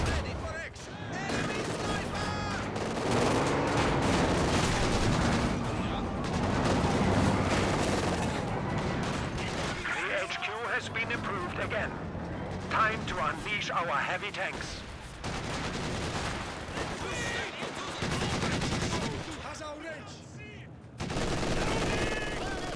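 Dishka heavy machine gun fire in a Company of Heroes 2 match, dense loud bursts mixed with other gunfire and explosions across the whole stretch, with a commentator talking over the battle.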